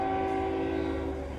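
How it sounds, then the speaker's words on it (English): Train horn blasting steadily and loud from start to finish, a sustained chord with the rumble of a passing train beneath it, heard from an outdoor spot on a breezy day. "I hear the train."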